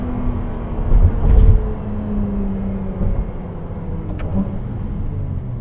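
Cabin drone of a Ferrari 296 GTB hybrid sports car being driven: a steady engine hum with slowly shifting tones, broken by a couple of low thumps near the start.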